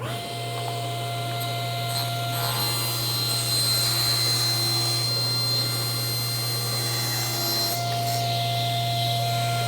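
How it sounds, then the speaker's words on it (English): A saw cuts a thin 5/8-inch wood strip for a jewelry box, a steady whining machine hum with a rougher cutting rasp for several seconds in the middle before the tone settles back. "now I need to cut the small strip, the 5/8 of an inch strip,"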